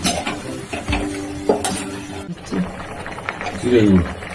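Boiled mung dal goes into a frying pan, producing a wet sizzle with stirring and clattering of a spoon against the pan, heard close while someone talks over it.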